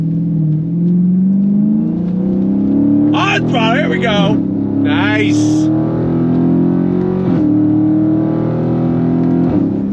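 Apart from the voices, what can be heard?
muscle car engine accelerating and shifting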